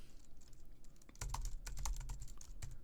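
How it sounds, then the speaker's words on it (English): Keys clatter on a computer keyboard as a query goes into a search bar, a quick run of close, crisp taps that starts sparse and grows into a steady burst after about a second. "I'm going to type this into the"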